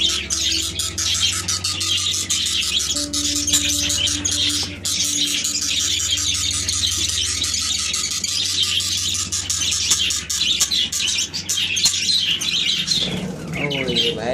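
A budgie chirps and squawks continuously while being handled at its breeding pot beside eggs, with rapid, shrill calls close up and some faint talking underneath.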